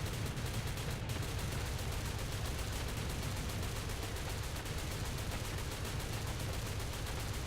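Gunfire from the video game War Thunder, a dense, continuous rattle of rapid shots that blurs into a steady roar, loud and unbroken throughout.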